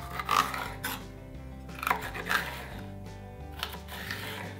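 A knife slices bell pepper pieces into strips on a cutting board, giving a few close, crisp cutting and scraping strokes at an uneven rhythm over a faint background hum.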